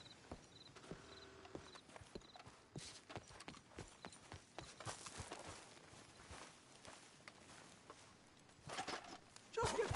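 Horse hooves clip-clop at a steady walking rhythm in the video game Red Dead Redemption 2, fairly quiet and close, with faint ambient sounds and a louder burst at the end.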